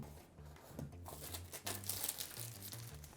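A box of replica AirPods Pro 2 earbuds is opened, giving faint close crinkling and rustling of cardboard and wrapping that continues over low background music.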